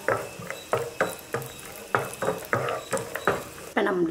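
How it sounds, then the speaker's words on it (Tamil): Cardamom and nuts frying in hot ghee in a pan for semiya payasam, a spatula scraping and tapping in a regular rhythm of about eight strokes over a light sizzle, close and clear. "நெய் சூடான பிறகு ஏலக்காய் போட்டுக்கலாம். அதோட கொஞ்சம் நட்ஸும் போட்டு பொரிச்சு எடுத்துக்கலாம்."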